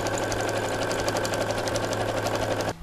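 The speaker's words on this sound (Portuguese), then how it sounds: "Vem costurando devagar, medida de pé de máquina." A sewing machine stitches a fabric envelope-style wallet at a slow, steady pace, a loud close mechanical whir with rapid rhythmic needle knocks that stops abruptly near the end.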